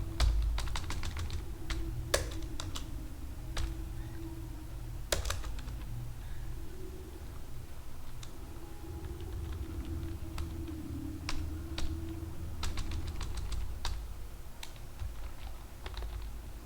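Steady typing on a computer keyboard while writing HTML code, with irregular close clicks and a few louder key strikes over a constant low hum.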